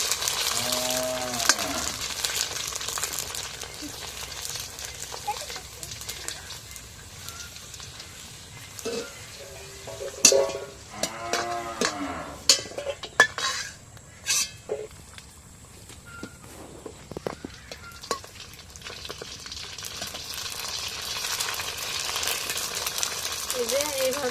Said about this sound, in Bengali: দেখুন এইভাবে আমি সব খোসাগুলো আস্তে আস্তে ভেজে নেবো